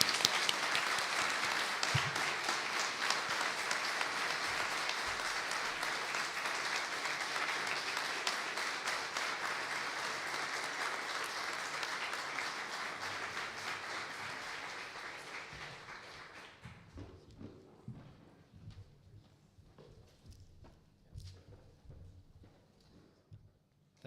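Sustained audience applause fills a room at the close of a research festival session, dense and steady for about sixteen seconds before thinning into a few scattered claps and faint room noise.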